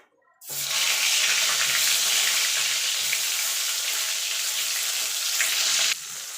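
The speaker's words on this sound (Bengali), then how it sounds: "এই তেলে বেগুনগুলো ভেজে নেব" Sliced eggplant hits hot oil in a pan, bursting into loud, steady sizzling after a brief quiet start, continuing close and unbroken until it drops slightly near the end.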